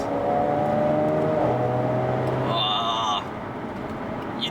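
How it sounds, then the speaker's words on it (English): A Jaguar F-Type S sports car engine roars steadily with rising and falling harmonic tones, loud and close, with a brief high whine partway through. "It's just that sort of roar that they give to their cars."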